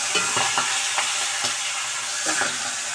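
Katla fish heads, rubbed with salt and turmeric, sizzle in hot mustard oil in a kadai, a steady close frying hiss broken by a few soft stirring clicks, with no voices.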